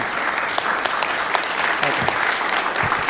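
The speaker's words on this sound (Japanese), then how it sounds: "皆さん拍手をよろしくお願いいたします" An audience at a club lecture by a Keio University professor on the Korean presidential election gives steady, full applause that continues throughout, with individual claps audible in the dense mix.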